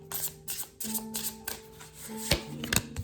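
Tarot cards being shuffled in quick riffling bursts, soft and close, with a few light taps between them.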